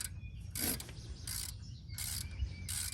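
Wrench slowly loosening a grease zerk on a tracked loader, producing repeated rasping, ratchet-like bursts about every second or so against a low mechanical hum, close up with no speech.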